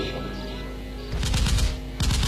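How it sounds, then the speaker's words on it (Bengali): Bursts of distant gunfire crackle in two separate volleys, intermittent and fairly faint, over a low steady background hum. "থেমে থেমে দূর কোথাও গুলির শব্দ"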